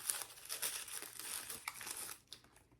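Paper wrapping crinkles and tears as it is pulled off a Louis Vuitton lock, with close, quiet, rapid rustling bursts that fade toward the end.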